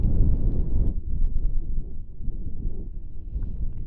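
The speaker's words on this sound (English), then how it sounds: "It was a little windy on the hill" Wind buffets the microphone on a desert hill in Namibia, a loud, continuous low rumble that rises and falls in gusts, with no voices present.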